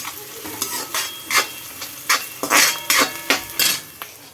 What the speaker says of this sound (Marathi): आता हे मस्तपैकी मिक्स करून घेऊया